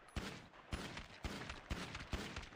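Gunfire in GTA FiveM roleplay, a series of five evenly spaced sharp shots roughly half a second apart, each with a short noisy tail, fairly quiet overall with no talking.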